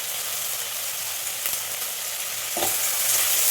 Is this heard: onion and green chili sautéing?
yes